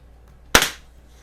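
A single sharp, hissing crack of a suppressed PCP air rifle shot, brief and close, decaying quickly into quiet.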